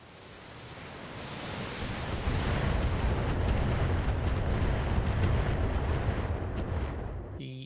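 In the BattleTech BTA mod, long-range missiles and heavy rounds are fired, swelling into a dense, sustained roar of blasts and rumbling explosions that gradually builds and fades away, with no talk over it.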